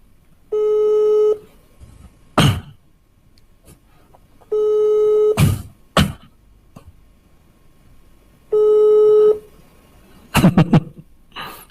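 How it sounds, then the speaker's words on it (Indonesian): A phone tone sounds three times in steady, evenly spaced beeps, each followed by brief coughs or throat sounds. "Berdering."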